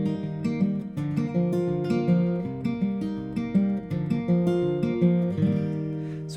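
Fingerstyle acoustic guitar in Travis-inspired picking, playing a song in G with a walking-down progression; clear plucked notes over an alternating bass, steady rhythm, close and moderately soft, no voices.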